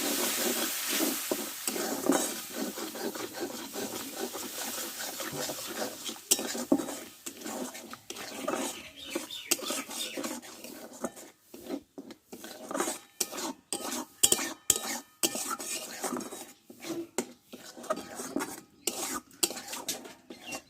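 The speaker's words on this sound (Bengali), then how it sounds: "অল্প একটু জল দেব যে মশলাটা ভালো করে কষে নিব" Spice paste of Kashmiri chilli powder, salt and a splash of water is stirred and fried in a pan, with a steady run of close utensil scrapes and clatters against the metal over a soft sizzle, continuing without a break.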